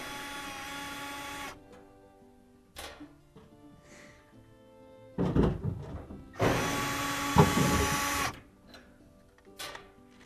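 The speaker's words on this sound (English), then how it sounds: "You just have to take out these two Phillips head screws." Phillips head screws come out of a 1998 Whirlpool dryer in two bursts of whirring, grinding driver noise, with scattered quiet clicks and handling sounds in the pauses before and between them.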